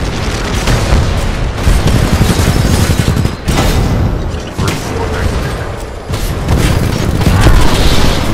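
Salvo core rocket barrage from a Titan in Titanfall 2, a dense, loud run of rapid booming blasts and bursts rolling on for several seconds with brief dips, mechanical clatter mixed in.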